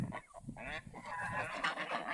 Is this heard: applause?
no